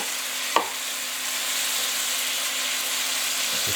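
Beef browning in a pot for stew, a steady close sizzle with one sharp clack from a utensil near the start and a faint stir or two.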